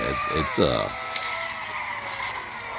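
A Mazda Furai race car runs close by, its engine note sweeping down in pitch as it passes, with a tire squeal and then a steady roar that lingers through the rest.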